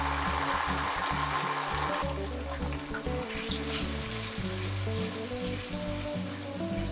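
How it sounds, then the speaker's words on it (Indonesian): A ground spice paste sizzles and crackles steadily in hot cooking oil over low heat, a continuous close frying hiss with occasional stirring scrapes. "Tumis hingga bumbu harum dengan menggunakan api kecil selama sekitar 8 menit."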